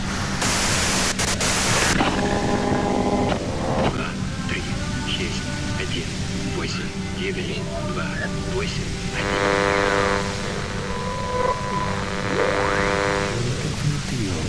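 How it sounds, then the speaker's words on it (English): Harsh white-noise static from a radio in the Disco Elysium video game hisses loudly throughout, broken by bursts of electronic tones and broadband crackle, with a voice talking over it. "If you've got something really important to say, you can do it through the white noise."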